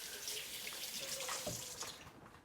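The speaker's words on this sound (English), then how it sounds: "let me rinse my hands real fast" Tap water runs steadily into a sink as hands are rinsed, a soft continuous splashing hiss at low level with no talking.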